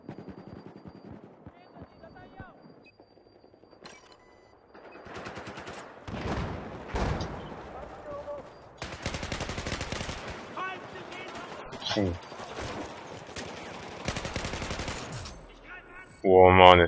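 Bursts of automatic gunfire and scattered shots from Battlefield 4 combat, loud and dense through the middle, with quieter stretches between volleys and someone talking intermittently.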